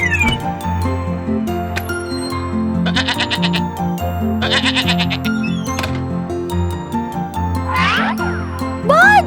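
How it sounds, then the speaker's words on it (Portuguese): A billy goat bleats in a cartoon farm-animal scene, several wavering, quavering calls over a bouncy looping music bed, with a sliding whistle-like effect near the end. "Bode."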